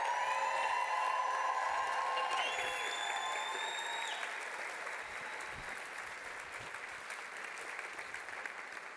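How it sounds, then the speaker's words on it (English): A large audience applauds steadily for several seconds and the clapping slowly fades, with a few high tones ringing over the crowd. "could we summon, like, the loudest round of applause that we possibly could for Kirsty?"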